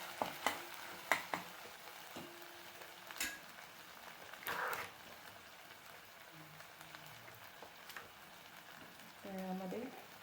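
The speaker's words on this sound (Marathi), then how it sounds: "टोमॅटो पण व्यवस्थित त्याचा कच्चापणा जाईपर्यंत त्याला परतवून घेऊया" Tomatoes are stirred and sautéed in a pan for a spinach dish, with soft spoon scrapes and clinks against the pan over a faint low sizzle, quiet and intermittent.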